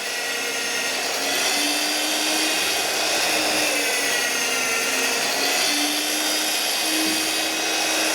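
QTR 63 magnetic drill press boring a 3/8 hole, a loud continuous whine with a steady high-pitched motor tone and gritty cutting noise throughout, close and uninterrupted by speech.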